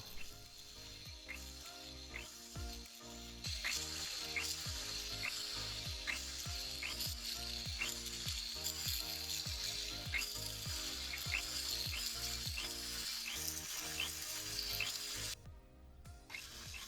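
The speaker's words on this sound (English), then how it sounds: "Once all the filing is done, I can start polishing." A scrap gold ring is polished on a motorized polishing wheel, giving a steady, faint whirring hum with rapid repetitive ticking running throughout.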